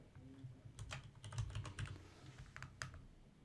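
Computer keyboard typing while entering a field name in a database form, a quick run of crisp key clicks in bursts, close and fairly quiet.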